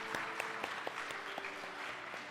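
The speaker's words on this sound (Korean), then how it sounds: "여기 계신 분들 우리 축복의 박수 한번 쳐드리겠습니다." Congregation in a church clapping together, a brief burst of many hands at close range, fairly loud and steady before fading.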